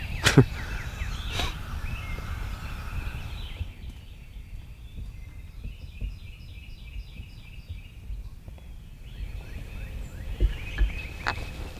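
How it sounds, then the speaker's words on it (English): A wild turkey gobbles somewhere out in a field below, faint and distant outdoors, with a sharp close click or snap near the start and bird chirps scattered across a quiet background. "We just had a turkey gobble right down in this field below us."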